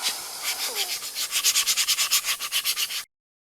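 Sandpaper rubs rhythmically across a surface being roughened before coating, a quick series of close, scratchy back-and-forth strokes that stop abruptly after about three seconds.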